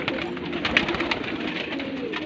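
Fancy and desi mixed-breed pigeons coo in a sale enclosure, soft repeated throaty cooing from several birds close by with faint background chatter.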